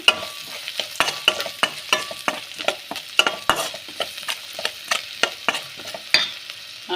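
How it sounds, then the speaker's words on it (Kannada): Salt being stirred into a sizzling tempering in a pan: a rapid series of sharp spoon scrapes and clinks over a soft frying hiss, close up with no talking. "ಈ ಒಂದು ಒಗ್ಗರಣೆಗೆ ನಾವು ಉಪ್ಪನ್ನ ಹಾಕಬೇಕು ರುಚಿಗೆ ಎಷ್ಟು ಬೇಕಷ್ಟು ಉಪ್ಪನ್ನ ಸೇರಿಸ್ಕೊಳ್ಳಿ ಸೇರಿಸಿ ಮಿಕ್ಸ್ ಮಾಡಿ"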